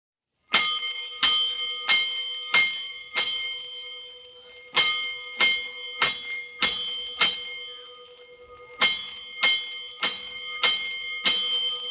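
Fire alarm bells in a 1949 firefighting radio drama ring out in sharp, evenly spaced strokes, grouped in three rounds of five and then more, each clang ringing on and decaying alone with no voices.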